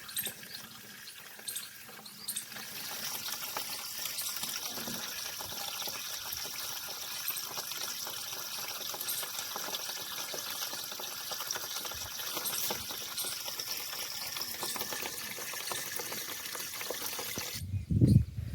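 Water pouring steadily into a container in a village home, a continuous trickling gush lasting throughout, close and moderately loud, with a brief clatter at the end.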